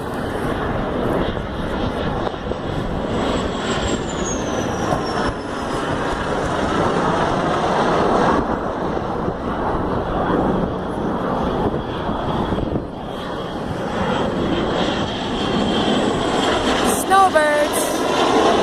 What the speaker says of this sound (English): Snowbirds coming in for a landing